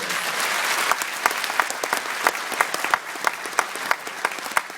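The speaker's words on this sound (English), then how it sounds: "Please give them a round of applause." Audience applause fills a large hall at an Irish citizenship ceremony in Dublin's Convention Centre, a dense, steady clapping from many hands with a few sharper individual claps standing out, sustained at full strength throughout.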